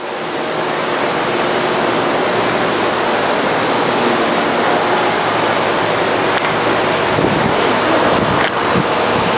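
A machine cutting through an inch-thick slab of mineral foam on a Model 204 gives off a loud, steady broadband roar that holds unbroken for the whole stretch, with no voices over it.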